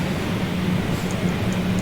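A train rumbles steadily in the Train Sim World 2 simulator on the Southeastern High Speed line, giving a constant low drone with a faint high whine over it and no talking.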